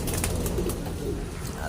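Racing pigeons resting after rain coo softly in short, low, repeated calls over a steady background hum, heard close by and without speech.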